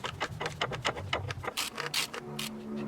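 A plastic oil filter housing on a Mercedes-Benz CLS W219 is twisted into place by hand, giving close, rhythmic rubbing and ratcheting scrapes followed by a few sharper grinding turns.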